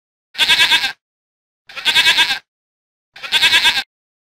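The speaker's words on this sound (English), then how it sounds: "Goat." A goat bleats loudly and close three times, each a wavering cry of under a second with clear pauses between them.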